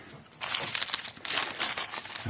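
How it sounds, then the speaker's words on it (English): Crinkly packaging is torn and unwrapped from a Wilkinson Hot Rails humbucker guitar pickup, loud close crackling bursts that start abruptly and continue in uneven waves. "Wilkinson version of Hot Rails humbucker, which I will just unwrap for you"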